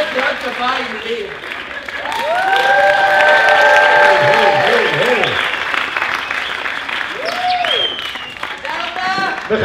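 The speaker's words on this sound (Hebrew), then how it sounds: "עכשיו מחיאות כפיים לי." Circus audience applauding and cheering, a loud sustained burst of clapping that swells and fades, with a performer's amplified voice and whistle-like tones running over the crowd.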